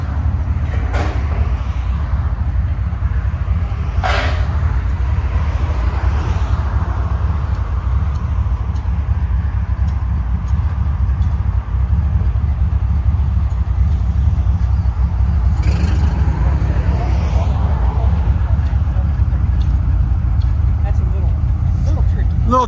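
A 1979-1980 Chevy Corvette V8 fitted with a Flowmaster 40 Series exhaust idles with a steady, deep, even rumble, loud and close, as people talk over it.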